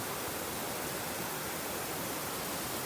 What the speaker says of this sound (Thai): วันนี้เอาบรรยากาศน้ำตก มาฝากทุกๆคน